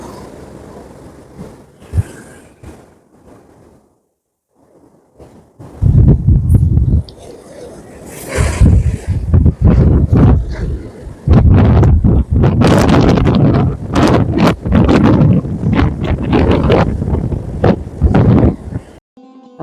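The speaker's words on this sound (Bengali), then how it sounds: "আমি ইচ্ছে করে তোমাদের জন্য এই জায়গাটা হাওয়ার স্পিডটা শোনার জন্য অরিজিনাল রেকর্ডিংটা রেখে দিলাম" Strong coastal wind at St Ives, Cornwall, batters the microphone in heavy, irregular roaring gusts, with a quieter lull early on and near-constant buffeting afterward, with some talking mixed in.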